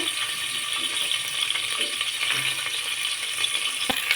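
Onion and green chillies fry in a pan as a steady broadband sizzle with scattered crackles and light stirring clicks. It holds even and continuous throughout, with no voice.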